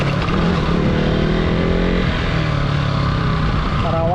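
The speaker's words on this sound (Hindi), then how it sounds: "और आवाज़ तो भाई आप लोग सुन ही रहे हैं बाइक की" A KTM Duke 200 BS4 motorcycle with a slight fault, its engine revving loudly and steadily while being ridden, a continuous close roar with rising pitch sweeps near the end.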